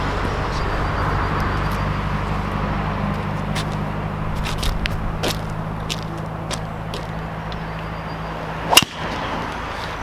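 A Callaway Epic Flash driver with a carbon crown strikes a golf ball once, a sharp crack late in the clip over steady outdoor background noise.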